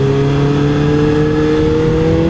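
Yamaha YZF 600R motorcycle riding through city traffic in Toronto, a steady loud engine hum with clear harmonic tones, heard close up from the bike under continuous road and wind noise.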